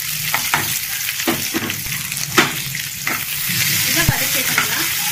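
Onions, dried and green chilies, garlic and curry leaves sautéing in hot oil: loud, close, continuous sizzling with several sharp stirring scrapes and clacks of a spoon against the pan.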